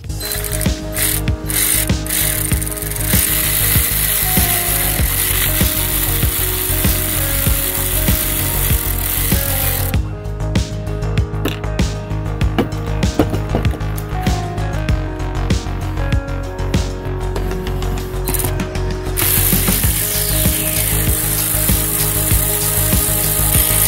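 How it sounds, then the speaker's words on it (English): A ratchet clicks rapidly and continuously, close and loud, while the eight bolts come out of an engine's intake valve timing control cover during an oil galley gasket repair. There are brief pauses between bolts. "we're gonna take out this intake valve timing control cover, and there's 8 bolts"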